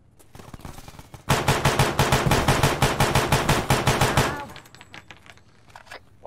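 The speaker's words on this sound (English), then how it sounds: "I shot someone by accident." Sustained automatic gunfire in Arma 3 rattles out as a dense, rapid burst of loud shots lasting about three seconds, then breaks off into quieter background noise.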